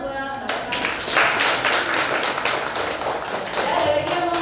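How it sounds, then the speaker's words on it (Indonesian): A classroom bursts into applause for a student: after a brief lull, a dense patter of many hands clapping starts and carries on evenly to the end. "Oke, tepuk tangannya buat Salsa."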